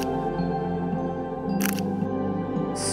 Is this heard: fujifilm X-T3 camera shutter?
yes